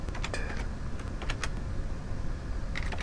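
Rapid keystrokes on a computer keyboard while entering a database query, sounding as dense clusters of clicks in bursts over steady background noise, with no speech.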